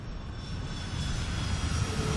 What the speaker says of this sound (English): Emirates 380 is just going up over there